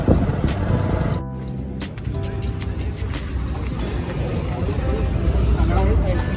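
A motorbike engine rumbles steadily in an office parking area as it is brought in to park, a broad continuous drone with a brief dip early on.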